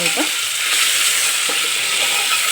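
Masala for egg biryani sizzles loudly in hot oil while being stirred, a dense, steady frying hiss with a few scraping strokes near the start and middle.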